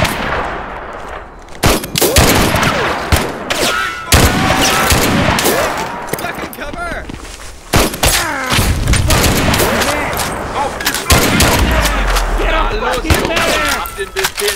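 Intense battlefield gunfire in a WWII video game set around St-Lo: rapid machine-gun bursts, rifle cracks and heavy booms cluster densely throughout, loud and close, with soldiers shouting over the fire.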